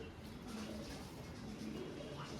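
Pigeons coo softly in a loft or standing cage, low rolling calls repeating faintly several times against a quiet background with faint room noise.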